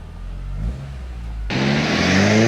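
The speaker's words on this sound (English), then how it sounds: "So I think it's time to take it for a little test drive." A modified Mk1 Golf show car idles, then pulls away with a sudden rise in engine and road noise, getting louder and holding a steady drone as it drives off, with no voices.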